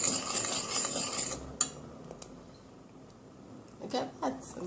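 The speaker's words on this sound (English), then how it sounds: "I'm going to add some cornstarch. And as usual, keep stirring." A spoon stirs teriyaki sauce thickened with cornstarch in a pan, giving faint, soft scraping and swishing with a few sharper clinks toward the end, quiet and close.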